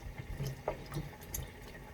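Water splashes and drips as it is poured into a pan and spills over, a few close, uneven splashes with no one talking.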